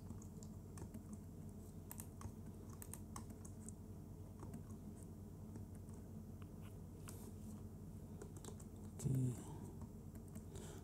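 Soft, rapid clicking of computer keyboard keys during photo retouching in Photoshop, quiet and continuous with irregular taps across the whole stretch and a brief louder bump near the end.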